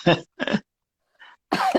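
Several short, rough coughs up close from a person recovering from Covid, in a quick irregular run, with a brief faint sound in a gap between them.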